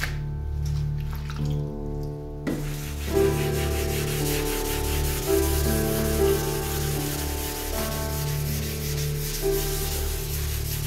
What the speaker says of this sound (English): the idea is to sand the orange peel out of the clear coat